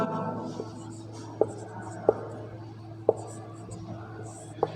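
Pen or pencil writing on paper with soft scratching and a few sharp taps at intervals, faint and close over a steady low hum.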